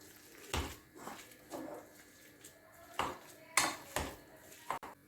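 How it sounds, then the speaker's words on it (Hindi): A potato mixture for aloo chicken tikki gets mashed in a pot, with a series of soft, irregular thumps and metallic clinks of the masher against the pot, fairly quiet and close. "इसको अच्छी तरह मैंने मैश करना है।"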